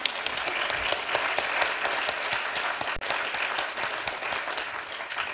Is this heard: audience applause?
yes